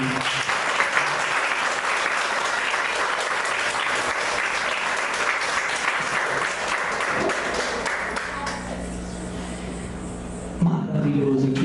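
Congregation applause at a church service, steady and dense for about ten seconds and fairly close, fading slightly near the end as a voice comes back in.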